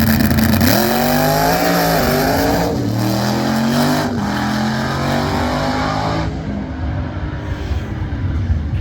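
A loud race car engine roars and revs continuously, pitch sweeping up and down through gear changes, close by for the whole stretch.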